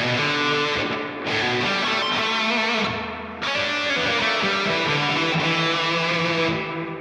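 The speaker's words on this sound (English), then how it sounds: "the shop reverb sounds like this." Sustained, heavily distorted guitar chords through a PolyChrome DSP McRocklin Suite shop reverb, ringing out with a long reverberant tail, each strum blooming and washing into the next.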